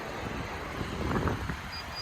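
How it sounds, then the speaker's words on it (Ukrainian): Petrol 1.6 MPI engine of a Renault Scenic 3 idling quietly, a low, steady, even hum with no knocks or odd noises, heard alone for about two seconds over faint outdoor background. "Моторчик працює тихо, без посторонніх звуків."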